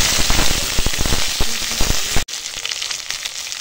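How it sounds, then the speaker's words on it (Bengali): Mango pieces go into a mustard seed tempering in a kadai wok, giving a loud, crackling, popping sizzle close by that drops abruptly to a softer, steady fry partway through. "এখন আমের চাটনিটা রান্না করার জন্য কড়াতে অল্প দেখো সরষের ফোড়ন দিয়ে আর এই কেটে রাখা আমগুলো"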